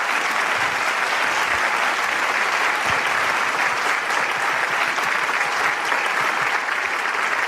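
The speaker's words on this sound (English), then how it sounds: "warm round of applause" A large festival crowd claps in a warm, continuous round of applause welcoming a performing group, a thick steady wash of hand claps at constant loudness throughout, with occasional sharper claps poking through.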